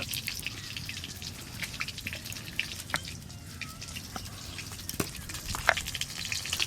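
Fish frying in hot oil in a pan gives a steady, fairly quiet crackle and spatter with scattered sharper pops throughout.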